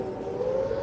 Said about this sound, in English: You can hear air raid sirens and explosions in the background.